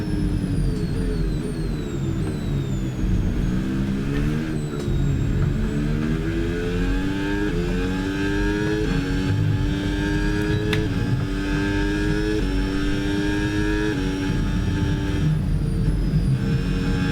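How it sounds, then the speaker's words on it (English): A Cadillac Formula 1 car engine in the F1 26 racing game at Silverstone drones steadily and loudly throughout, with rising and falling harmonic sweeps as it labors through gear changes and no talk over it. "I can hear the engine kind of struggling."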